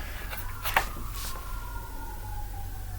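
A faint siren wails in the distance, its tone slowly sliding downward beneath steady low background rumble, with a few soft knocks nearby.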